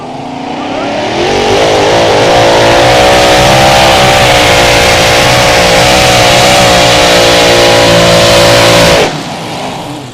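An unlimited mini modified pulling tractor roars at full throttle through a European Championship run, a loud sustained engine drone with steady rising harmonics for about eight seconds before it abruptly cuts off.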